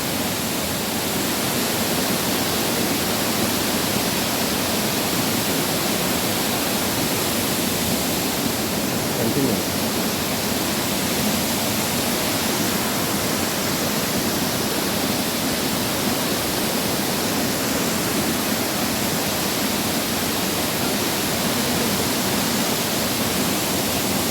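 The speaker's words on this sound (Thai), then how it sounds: "น้ำตกสวยมาก" Rushing water at Sapan waterfall, a loud, steady broadband roar that fills the whole stretch without pause.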